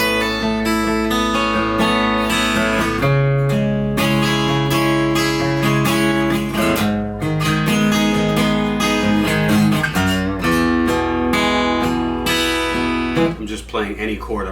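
A Taylor 814ce acoustic guitar, played unplugged, is strummed through a series of loose chords: full, bright and close, with rhythmic changes and a brief pause near the end.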